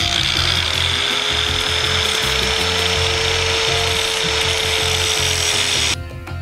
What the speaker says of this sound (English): That way it's real easy to grind the tab and you don't have this in the way. So I'm going to grind here again.